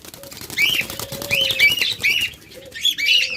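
Caged doves and cockatiels at a bird breeder's, repeated close chirps and tweets in short bursts with bits of wing flutter, no talk.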